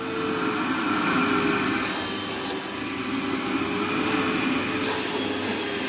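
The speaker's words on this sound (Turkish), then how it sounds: "Süpürgenin ayarıyla oynuyorum." A Fakir Veyron vacuum cleaner runs steadily in a home, producing a continuous loud whirring drone with a faint high whine and no pauses.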